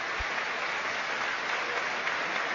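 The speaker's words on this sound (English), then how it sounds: "And Jackson gets his applause after scoring the second goal." Steady stadium crowd applause at a Premier League match between Chelsea and Tottenham Hotspur as a substituted player leaves the pitch, a broad even wash of clapping throughout with no distinct voices.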